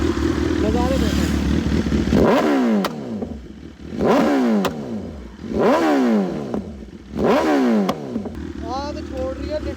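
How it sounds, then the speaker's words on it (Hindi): Stage 2 tuned BMW S1000RR superbike riding on a highway, its engine rising and falling in four repeated rev surges with gear-change dips, loud and close, with someone talking over it between pulls. "थोड़ी सी मैंने चलाई है बस बाइक, आगे हाईवे आ गया है"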